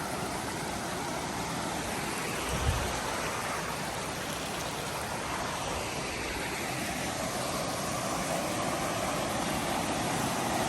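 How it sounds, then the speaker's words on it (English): A mountain creek beside the Alum Cave Trail rushes in a steady, dense wash of flowing water that stays even and moderately loud throughout, with no voices. "Only the sounds of the water so far."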